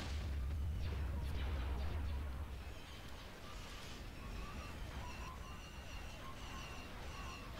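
In a Star Wars Empire at War space battle, missiles fire and burst in a dense run of loud booms and blasts, heaviest at first and then settling into steady rumbling fire.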